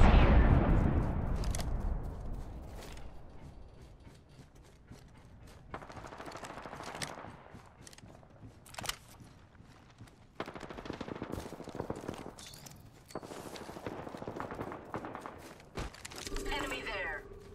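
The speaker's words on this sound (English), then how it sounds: "Opening fire." Automatic gunfire in Apex Legends on World's Edge, sharp bursts and single shots scattered across the scene amid game effects and footsteps, loud at the start then recurring in shorter volleys.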